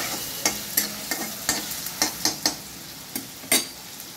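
Garlic, ginger and sugar frying in a pan for ghugni, with a steady background sizzle broken by repeated scraping stirs and light utensil taps at irregular intervals, close and moderately loud.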